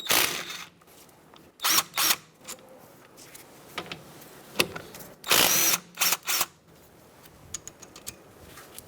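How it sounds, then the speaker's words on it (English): A power tool with a 14mm socket spins out the front brake caliper slide bolts on a 2010-2013 Kia Soul in several short, loud whirring bursts separated by quieter gaps. "I'm going to use a 14mm socket to remove our caliper slide bolts."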